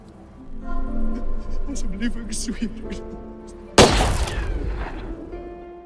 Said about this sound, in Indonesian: Ternyata tembakan itu terdengar oleh Emma.